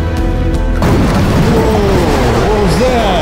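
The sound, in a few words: huge explosion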